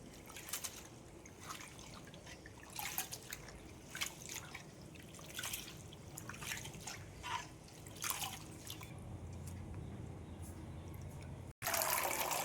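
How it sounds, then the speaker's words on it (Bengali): Chopped kulekhara (helencha) greens swished and washed by hand in a basin of water, with repeated splashing and dripping sloshes in an uneven rhythm, close and fairly quiet, ending in a sudden louder burst. "এই গামলা ভর্তি জলের মধ্যে এখন কেটে রাখা শাকগুলো ধুয়ে নিচ্ছি।"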